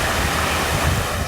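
Loud, continuous gusts of wind roar during a nor'wester storm with hail, a dense broadband rush with no voices.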